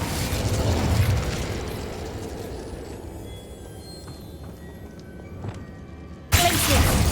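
An Incendio fire spell is cast in the video game Hogwarts Legacy, giving a loud fiery burst and rumble that fades and then flares up again sharply near the end.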